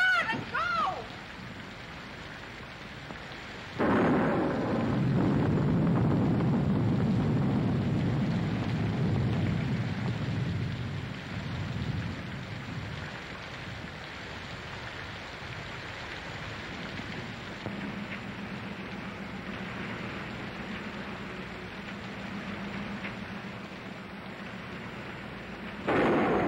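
A thunderstorm with heavy rain in an old film noir scene: a loud broad rumble of thunder breaks in early and stays over a steady rain wash, with some talk under it.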